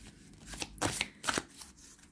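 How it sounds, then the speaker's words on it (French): Tarot cards being handled and shuffled, two or three quick riffling bursts of papery flicks, close and fairly quiet, with no talking. "En espérant ne pas faire tomber toutes les cartes, ça serait sympa."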